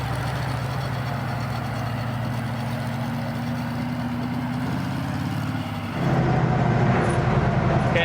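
Monster truck engine running in second gear with a rough, pulsing mechanical drone that drops in pitch and grows louder near the end as the gear note shifts.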